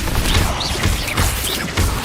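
Confringo spell blasts in Hogwarts Legacy: several quick crashing impacts spaced across a couple of seconds, mixed with whooshing game effects and no speech.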